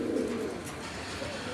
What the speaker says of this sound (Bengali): আমরা এখানে আরেক জোড়া কবুতর দেখতেছি, আর এটি হচ্ছে এক জোড়া মেইলি রেসার কবুতর